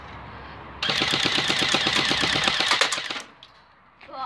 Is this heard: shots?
yes